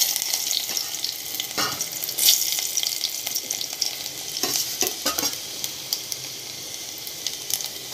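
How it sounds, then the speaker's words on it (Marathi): Garlic pieces fry in hot oil in a pot during tempering for a Marathi methi dish: a steady, close hiss and crackle with light stirring and scraping clatters through the whole stretch, and no voices. "तेल तापलेलं आहे। लसूणचे तुकडे"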